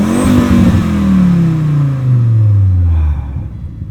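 A 1997 Volvo 850 R five-cylinder with a VAST Tuning stock R tune and 5-speed revs loudly close by, its pitch falling in a smooth sweep as the revs drop, then cutting back to a lower rumble.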